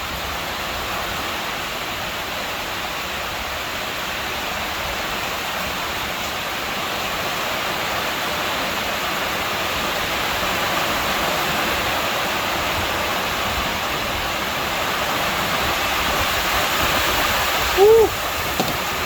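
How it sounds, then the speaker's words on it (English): Strong wind gusting with rain at a boat club in Iloilo during the rainy season, a steady broadband rush that holds throughout and swells slightly toward the end, with a brief knock near the close. "some pretty strong wind coming in now."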